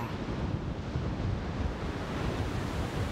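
A roaring Himalayan mountain stream rushes over rocks on the Kongde trek, a loud, dense, unbroken wash of water noise heard close by with some wind buffeting.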